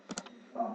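Quick keystrokes on a computer keyboard while entering an IP address at a command prompt, a few crisp clicks in short bursts, close and moderately loud.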